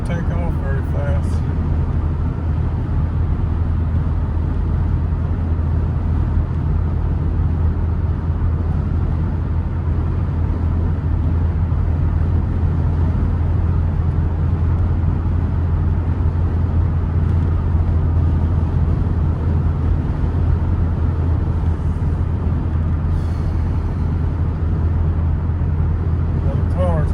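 A car with a 1.5 litre engine drives along steadily, its low engine drone and road rumble constant and loud throughout, with faint talk in the cabin.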